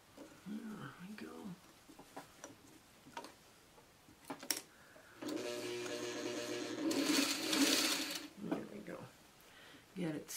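A sewing machine stitches a seam on a courthouse steps quilt block, running in one steady burst of about three seconds mid-clip, with soft handling noises and a voice before and after.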